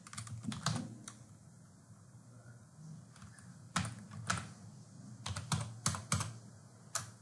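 Typing on a computer keyboard while composing an email, quiet irregular bursts of key clicks with short pauses between them, close to the microphone and with no talk over it.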